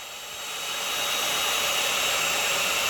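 A Revlon hair dryer brush runs at full power, a steady broadband rushing whoosh that ramps up over the first second and then holds loud and constant, with no talking.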